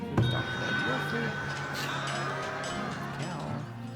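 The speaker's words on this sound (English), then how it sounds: "Cow." Cow in the Farthest Frontier game, a clear drawn-out moo lasting several seconds with a faint clink near the start and talk over it.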